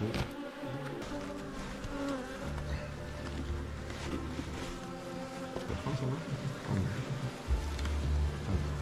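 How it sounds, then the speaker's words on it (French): A swarm of bees inside a wall, a continuous buzzing drone close by, with quiet voices talking under the hum. "Un petit essaim. Il est là."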